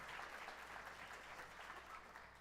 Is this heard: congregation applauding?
yes